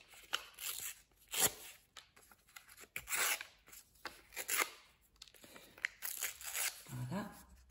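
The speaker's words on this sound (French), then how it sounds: "En premier lieu, on va couper les bords du papier." Scissors cut along the edges of a sheet of paper in several crisp snipping and rustling strokes, close up, with a quiet voice speaking between the cuts.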